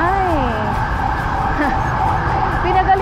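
An ambulance siren wails through Manila traffic, heard from a motorbike ride. The rising and falling tones sound close and loud over a steady engine and street noise.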